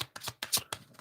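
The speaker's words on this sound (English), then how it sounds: "Let me shuffle these more." Quick riffling of a tarot deck being shuffled, several short crisp bursts of cards flicking together, close and fairly quiet.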